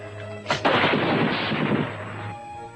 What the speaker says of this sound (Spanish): Las primeras ametralladoras.